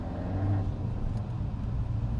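A Peugeot 308 GTi on track at Castle Combe with ESP off drones steadily from inside the cabin, its artificial electronic engine sound a low, continuous hum at moderate level.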